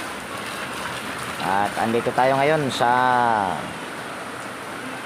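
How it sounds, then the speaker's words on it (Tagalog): Heavy rain hisses steadily and evenly throughout, while someone speaks in the middle. "Malakas ang ulan mga kabutingting."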